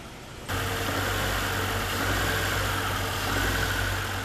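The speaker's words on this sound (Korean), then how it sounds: "엔진 소리가 심상치가 않다." A faulty four-cylinder car engine, from a car that stalled on a highway, starts up and settles into a loud, steady idle with a low, uneven rumble and slight rhythmic unsteadiness.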